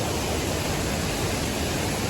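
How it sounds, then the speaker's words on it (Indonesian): Waterfall at Sarambu Ponglo in Toraja, roadside, one of the region's tallest falls: a steady, dense roar of falling water, broadband and unbroken, close and loud with no voices. "saya langsung berada di air terjun Lembang Ponglo guys ya"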